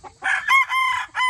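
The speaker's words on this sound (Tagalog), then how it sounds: "gaganda na aking mga manok" A rooster crows loudly and close on a farm where chickens are kept for breeding, one full drawn-out crow with a short break partway through.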